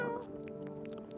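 A cat meowing at feeding time, a short close meow with harmonic tone, followed by a few faint higher chirpy sounds.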